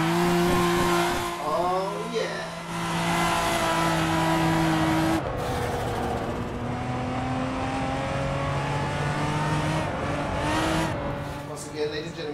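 Race car engine in the Assetto Corsa driving game, a loud sustained drone whose pitch climbs and then drops as the car shifts up through the gears, with a brief tire squeal and a voice talking over it.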